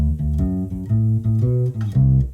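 A U-Bass plays a blues shuffle ending, deep rubbery plucked bass notes in a bouncing shuffle rhythm, close and full, with no voices.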